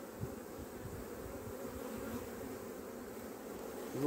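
Honey bees hum and buzz steadily at an open hive colony, a close, continuous low drone with no voices.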